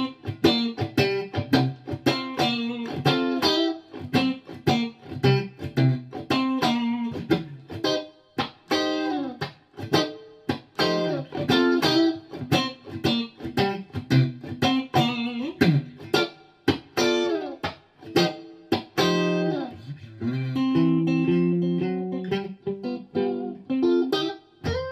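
Electric guitar riff played through a Blackstar HT-40 Club 1x12 tube amp with the ISF control set toward the USA side, lightly driven and twangy, strummed chords and single notes in a steady rhythm, close and loud with no talking.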